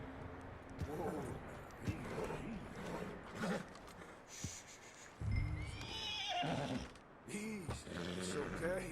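A horse whinnies loudly in a few shrill, wavering bursts in the video game Red Dead Redemption 2, with hoof clatter and other game sounds mixed around it.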